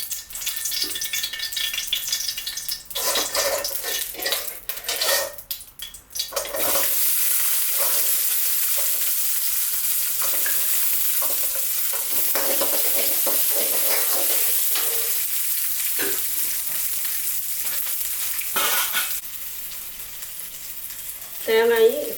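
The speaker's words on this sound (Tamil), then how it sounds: "இப்போ எண்ணெய் விட்டு வெங்காயத்தை வதக்குறோம்." Onions sautéing in oil for a hotel-style mudakathan keerai chutney, with a loud continuous sizzle that holds steady for most of the stretch and a few scraping stirs near the start and end.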